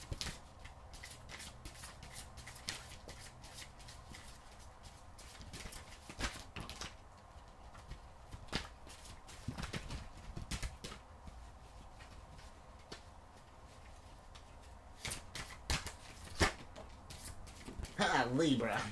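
Oracle cards are shuffled and handled in short, repeated papery riffles and taps, close and soft, mixed with quiet talking.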